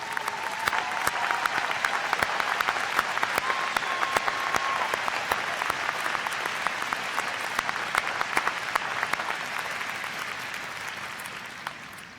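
Steady applause from a large audience at the University of Utah 2019 commencement, continuous clapping that holds at even volume and fades slightly toward the end.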